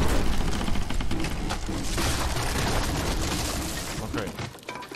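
Gunfire in the video game L.A. Noire, a dense, loud stretch of shots and crashing impacts that fills the whole clip with little pause.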